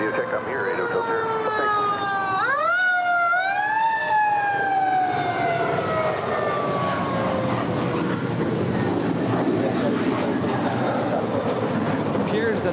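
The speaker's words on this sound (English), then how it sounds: "we got more sirens. Bring the sirens. Sound the alarm." Loud emergency sirens wail and sweep up and down in pitch over heavy traffic rumble near LAX airport, staying close and sustained.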